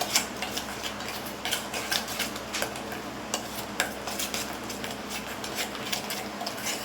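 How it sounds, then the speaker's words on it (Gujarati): Methi muthiya batter being mixed with a spoon in a bowl: steady rapid ticks and scrapes of metal against the dish, close and clear with no talk. "ફરીથી આપણે બેટર બરાબર મિક્સ કરી લેશું"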